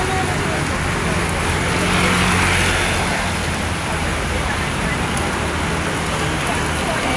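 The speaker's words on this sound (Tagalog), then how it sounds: "It's raining." Steady broadband hiss of gentle rain falling on a Monday, a continuous wash of drops at even loudness throughout, with a faint low hum of distant traffic beneath.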